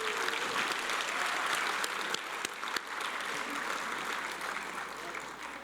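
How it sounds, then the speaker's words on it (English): An audience at a business association inaugural event breaks into sustained applause, a dense, even clatter of many hands lasting throughout at moderate distance. "Let us give Rene and the outgoing board a warm round of applause"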